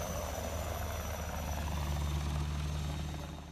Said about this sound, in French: Pendant toute l'opération, un hélicoptère d'attaque Tigre surveille la zone.